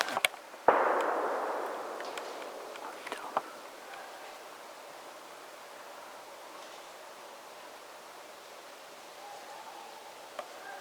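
A sharp distant gunshot cracks out during a red deer hunt, followed by a couple of fainter reports over a steady outdoor hiss, with a long fading echo.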